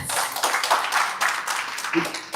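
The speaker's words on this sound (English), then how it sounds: "a very big round of applause" Clapping from a group of people, a steady patter of hands under some voices, moderately loud and close.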